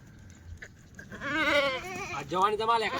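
Kathiawadi dairy goats tethered in a pen bleat loudly and close by, two or three wavering cries in quick succession, with someone talking over and between them.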